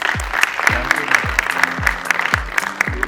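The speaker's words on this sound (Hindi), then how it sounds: "आइए अब हम इस सत्र के सभी वक्ताओं का तालियों की गड़गड़ाहट से स्वागत करें" A literary festival crowd applauds the session's speakers, dense clapping throughout, punctuated by repeated low booming thumps and some tonal background sound mixed in.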